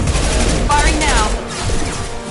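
Dense, continuous gunfire in the video game Mass Effect 2, loud and close, with a voice speaking briefly over the shooting.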